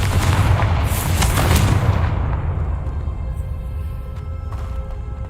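A Confringo blasting spell from the video game Hogwarts Legacy goes off as a loud, close boom, then trails into a rumbling decay that fades over several seconds. No one speaks.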